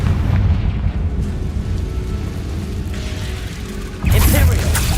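Confringo fire spell from Hogwarts Legacy bursting with a loud, bright explosive blast near the end, following a sustained rumbling wash of combat noise.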